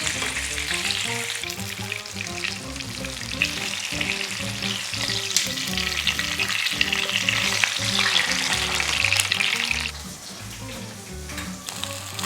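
Flounder coated in rice flour and potato starch batter for Korean gajami twigim sizzles steadily in hot oil, a dense crackling fry that stays loud before easing slightly near the end.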